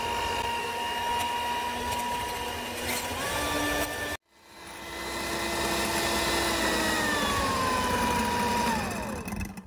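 An electric hand mixer whirs steadily while beating banana cream cake batter, its pitch sagging under load, briefly stopping and then restarting for a longer continuous run, close and fairly loud.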